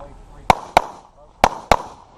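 Four sharp gunshots from Brian's shooting, fired in two quick pairs, loud and close, each a crisp crack with a short decay.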